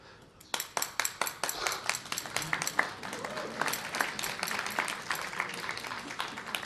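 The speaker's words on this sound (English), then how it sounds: "Oh, I should have said that earlier to get more applause." An audience at a Washington policy talk breaks into applause, beginning with a few distinct sharp claps that quickly swell into steady, moderately loud clapping sustained to the end.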